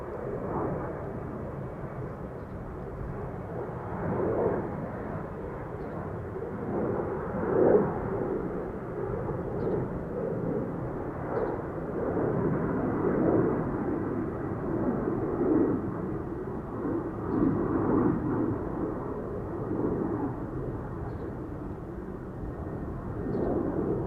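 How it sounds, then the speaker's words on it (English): A widebody airliner takes off from the center runway at Amsterdam Schiphol Airport, its jet engines giving a steady, broad roar that swells and holds without fading over the whole stretch. "Now body's taking off from the center as well, from the center runway."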